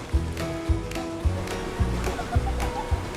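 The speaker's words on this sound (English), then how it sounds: "the water flows over that rock" Rainwater flows over a rock ledge of Edwards Formation limestone at Barton Springs, giving a steady close rush with a regular series of low thumps roughly every half second.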